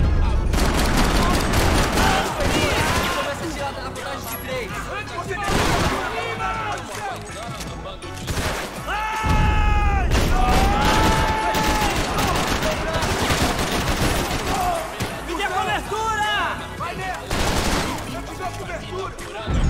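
Repeated volleys of gunfire from the video game Max Payne 3, with bursts and single shots scattered across the clip and a voice talking over parts of it.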